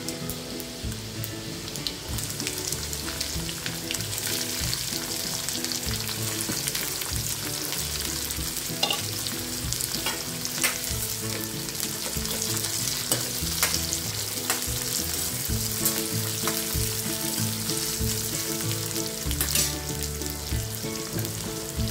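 Sliced onions sautéing in a hot oil tempering for onion zunka, a dense continuous sizzle and crackle with stirring scrapes, close and loud throughout.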